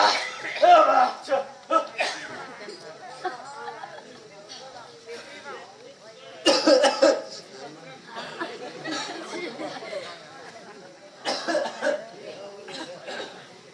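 Several bursts of coughing and throat clearing come through amid people chattering nearby, loudest at the start and again midway.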